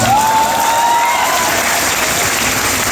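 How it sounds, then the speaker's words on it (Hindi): An audience claps steadily and loudly at a motivational talk, a dense continuous wash of many hands from start to finish with no voices over it. "लेकिन हम ताली को बजा लीजिए, बढ़िया है"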